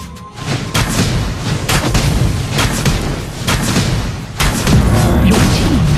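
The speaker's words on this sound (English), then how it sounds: "Your team has destroyed a tower." Tower destruction in the mobile MOBA Arena of Glory, heard as loud, dense booming impacts and crashing debris layered over busy battle noise through the whole stretch.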